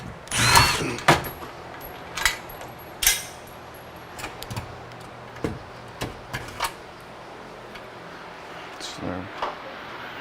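Power drill driving 1-inch 5/16 lag screws with washers during an outdoor lighting install on a wash bay, heard as short whirring bursts and clicks repeated at irregular intervals, loud and close.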